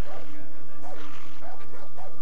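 Dogs in Far Cry 3 bark in four short, evenly spaced yelps over a low, steady game ambience.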